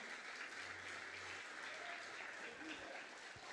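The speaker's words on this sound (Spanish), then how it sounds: "Dale un aplauso fuerte al Señor." A steady roar of applause from a large church congregation continues without a break. The clapping stays dense and even for the whole stretch.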